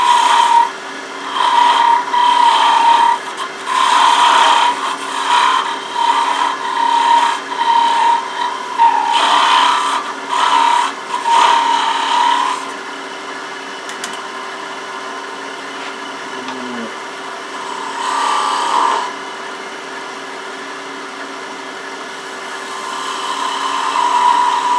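A detail gouge cuts into a wooden chess king spinning on a lathe, giving a steady close scraping whir with a high ringing tone for about twelve seconds before it eases to a quieter lathe hum.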